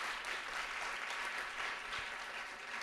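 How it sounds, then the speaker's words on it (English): Room applause rises from a summit audience, a fairly soft but continuous patter of many hands clapping at an even level throughout, with no one speaking over it. "so you heard the applause"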